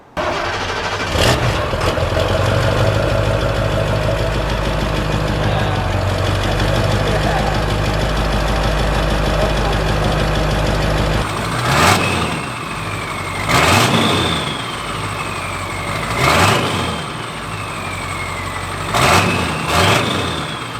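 A shuttle bus engine rumbles loudly at idle through a rerouted exhaust, then revs repeatedly in short bursts, each rise and fall clear and close.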